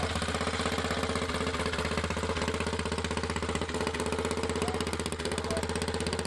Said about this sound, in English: As you can see the generator running off the flywheel.